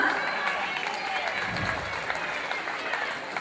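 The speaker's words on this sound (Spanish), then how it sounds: "un aplauso para ustedes una vez más" Concert audience applauding at a Bolivian community show in Chicago, dense continuous clapping mixed with crowd cheers and voices, loud and sustained throughout.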